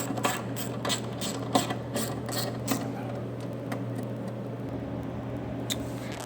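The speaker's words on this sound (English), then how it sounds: "then we are okay to tighten all 4 screws" Screws being tightened on a pulse gear drive unit of an electric popup stop: a quiet series of sharp mechanical ratcheting clicks over a steady low hum, mostly in the first few seconds.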